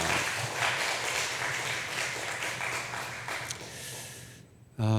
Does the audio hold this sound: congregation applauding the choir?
yes